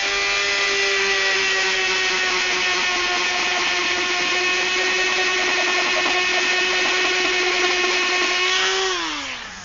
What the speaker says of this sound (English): it's pretty dense stuff, and a Dremel sort of melts it